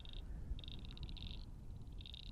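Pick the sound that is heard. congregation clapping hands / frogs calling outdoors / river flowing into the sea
frogs calling outdoors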